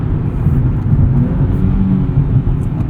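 A 2023 Nissan Z engine drones in a low, steady rumble inside the cabin as it is driven, heard close and loud with no talk and no distinct rev spike.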